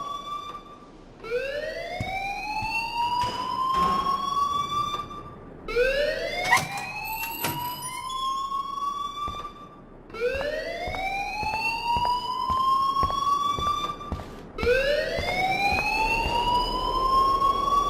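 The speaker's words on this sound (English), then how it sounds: "please turn off that alarm since that's your job" A school alarm in the Life Is Strange video game wails loudly in four repeated rising sweeps, each climbing in pitch and then holding before a brief break, with no voices over it.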